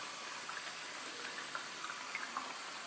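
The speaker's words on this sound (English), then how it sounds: "So I'm just letting the water go in." Hot water from a mixer tap runs steadily into an Aquamassage therapy cushion, a soft, even gush with small splashy ticks throughout.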